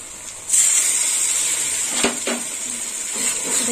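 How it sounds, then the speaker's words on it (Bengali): Tomato paste hits a hot pan with a steady bright hiss of sizzling, close by, with a couple of soft utensil knocks against the pan partway through. "দিয়ে দিলাম টমেটো বাটা"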